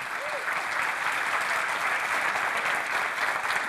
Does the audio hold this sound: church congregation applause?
yes